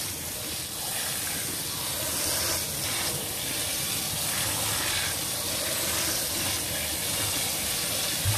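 Water poured from a bottle over couscous to rinse it, a steady hissing, splashing pour that runs evenly and fairly close for several seconds without a break.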